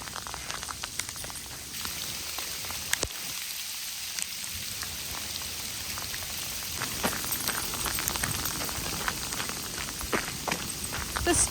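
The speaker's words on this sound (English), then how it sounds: "It's hailing on us." Tiny hailstones patter and tick steadily on a trail and surroundings on the Oregon Coast, a continuous crackling hiss with scattered sharper clicks, fairly close.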